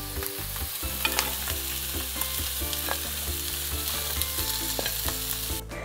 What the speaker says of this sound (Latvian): Mums gaļiņa ir apcepusies